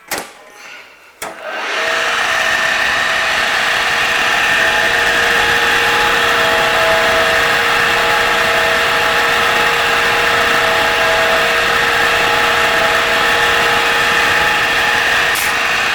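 A Groen 40-gallon process kettle, model DN/TA 40, with manual variable speed on 220-volt three-phase power, starts up after a brief quiet moment and settles into a loud, steady motor drone with a constant tonal whine, close by.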